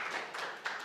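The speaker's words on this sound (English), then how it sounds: "please give a round of applause to them already" Conference audience applauding at a crypto wallet event in Cannes, a dense wash of many hands clapping together, steady and fairly loud throughout the brief moment with no talk.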